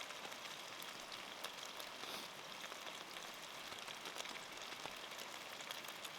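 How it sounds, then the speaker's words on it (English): Steady rain pattering on a surface at a wild camp, a continuous hiss with scattered distinct drops, fairly quiet and close, with no one speaking. "Still raining."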